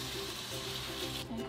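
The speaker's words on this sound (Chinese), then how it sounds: "我们就把这个蛋给它淋下去" Beaten egg poured over a rice dumpling frying in a pan, a steady soft sizzle of hot oil running throughout at low volume.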